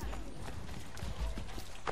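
A horse's hooves clip-clop in the video game Assassin's Creed 3, quick uneven hoofbeats at moderate level over a busy background.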